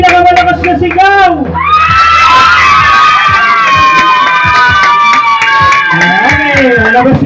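A crowd of children shouts and cheers loudly in a loudest-shout contest, a sustained roar of overlapping voices rising after a host's call and fading back into talk near the end.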